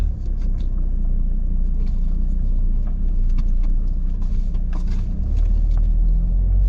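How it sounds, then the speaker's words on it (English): A car rolls slowly and gently along a track full of potholes, its low engine rumble and road noise steady and close throughout, with faint bumps and rattles now and then. "I'm going to start driving out here very, very gently because it's full of holes and pit holes"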